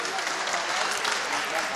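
Audience applause at a mushaira poetry gathering in Bhiwandi in 2018: a dense, steady wash of many hands clapping that holds evenly for the whole moment.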